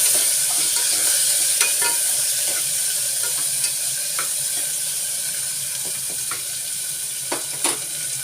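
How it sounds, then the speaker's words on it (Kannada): Peas are tipped into a hot frying pan and stirred, giving a steady sizzle with scattered scraping clicks of the spoon against the pan, close and loud, with no voices. "ಇಲ್ಲಿ ಇಟ್ಟುಕೊಂಡಂತಹ ನಾನು ಬಟಾಣಿಯನ್ನು ಹಾಕ್ಕೊಳ್ತಾ ಇದ್ದೀನಿ."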